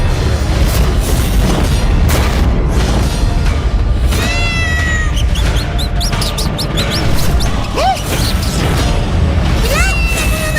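A demonic cat in an animated mythological show lets out several sharp meows and yowls over a loud, continuous score with booming hits and effects.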